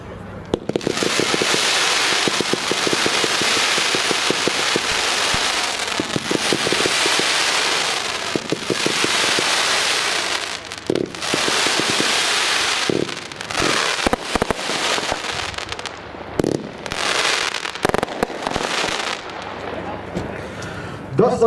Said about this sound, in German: das war der Donnerdrachen an Position 8, unsere Fächerbatterie Mayday